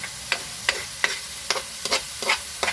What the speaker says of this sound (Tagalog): antayin natin hanggang sa humalo yung pork cubes dun sa ating ginigisa